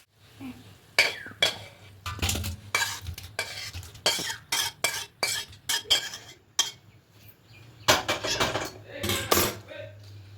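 A utensil scrapes and clinks repeatedly against a pan as a bottle gourd dish with hilsa fish head and sugar is stirred, irregular bursts of scraping over a faint sizzle, close and fairly loud.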